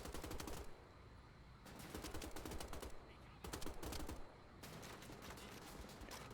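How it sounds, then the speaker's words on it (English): Kimbo rifles firing in Wolfenstein: The Old Blood, bursts of rapid automatic shots broken by short pauses, loud and close, several separate volleys in a row. "tap and trigger the Kimbo rifles this bit"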